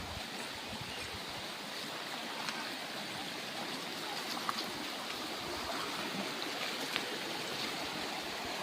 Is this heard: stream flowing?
yes